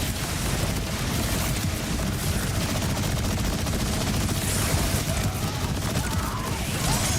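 Dense automatic gunfire from Borderlands 4 rattles on nonstop, a steady loud stream of rapid shots with explosive bursts layered over it and no pauses.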